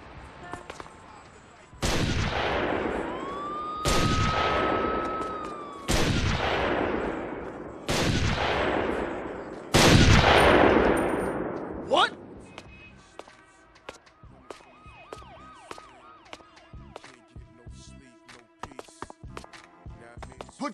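Sniper gunfire in the Xbox video game 25 to Life: five heavy, booming shots about two seconds apart, each with a long decaying echo, followed by scattered quieter clatter and movement.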